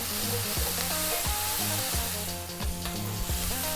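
Onions, garlic and tomatoes fry over high heat in a pan while being stirred almost constantly. A steady close hiss with light scraping runs under tonal background music.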